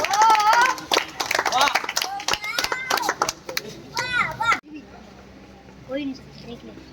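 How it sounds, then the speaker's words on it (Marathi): A crowd of women and children claps in a burst of rapid, close applause at a Home Minister game competition, mixed with loud excited children's voices and chatter before it drops to quieter talk. "टाळ्या सगळ्यांनाच आहे."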